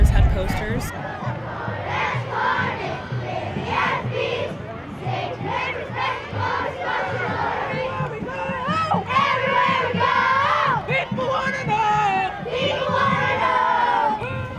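Crowds of children chant and shout a cheer together while marching in a school cultural parade, loud rhythmic massed voices close by.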